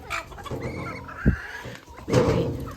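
Domestic ducks, including a large drake, call from close by in a farmyard pen, with several raspy, overlapping honks and clucks coming in short bursts, one louder outburst near the end.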